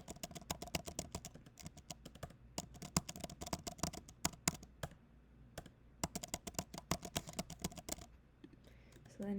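Rapid clicky keystrokes on a computer keyboard come in quick uneven bursts with brief pauses, close but fairly quiet.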